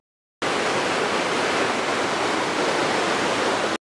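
Flood water rushes after a dam fails, a loud, steady, broadband roar that starts abruptly and holds evenly for several seconds before stopping.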